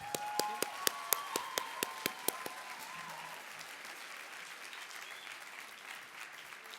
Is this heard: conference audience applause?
yes